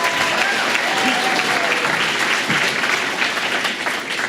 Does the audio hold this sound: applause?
yes